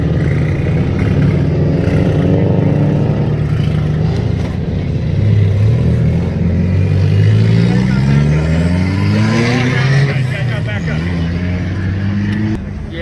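A BMW's engine rumbles and revs up in repeated rising sweeps at an outdoor car meet, loud and close, with people talking nearby.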